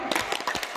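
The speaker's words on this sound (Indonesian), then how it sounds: "kita tepuk tangan dulu semua ya" A small group claps hands together in a quick, busy patter of overlapping claps at moderate volume.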